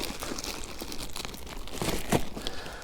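Camping stove being slipped into a small plastic bag, a run of soft, close crinkles and rustles with a couple of sharper crackles near the end.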